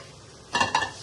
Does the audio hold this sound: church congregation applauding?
no